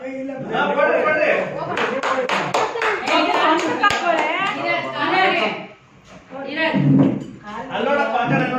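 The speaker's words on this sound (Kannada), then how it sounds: "ಚಪ್ಪಾಳೆ." An audience at a New Year celebration breaks into sustained clapping, a dense wash of hand claps mixed with chatter and children's voices, dipping briefly before swelling again.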